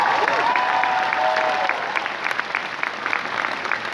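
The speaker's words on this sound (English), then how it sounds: "give them a round of applause" Audience applause at a D23 panel for an animated series, a dense roomful of clapping that holds steady for a few seconds before thinning slightly, with faint voices and a brief whistle-like tone mixed in near the start.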